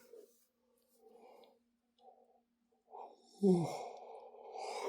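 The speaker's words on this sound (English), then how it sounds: "I don't know why I'm yawning" A person yawns, a few soft breathy exhalations building to one longer, louder drawn-out yawn near the end, close and quiet with no speech.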